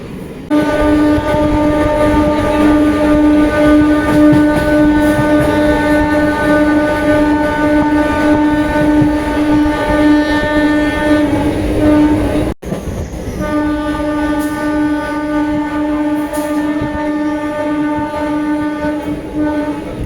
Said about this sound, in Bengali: ট্রেন তার পরের স্টপেজ বৈদ্যবাটি ঢুকছে।